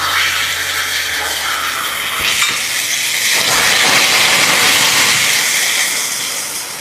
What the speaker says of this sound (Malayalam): ഇതിലേക്ക് ഒരു 1/4 കപ്പ് വെള്ളം ഒഴിച്ചു കൊടുക്കാം.